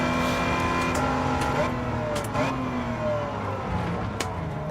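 Race car engines in Gran Turismo 7 howling through gear changes as cars overtake, steady loud revving with pitch sweeps and brief sharp noises, talk present.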